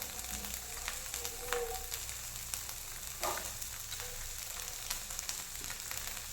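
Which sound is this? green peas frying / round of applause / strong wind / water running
green peas frying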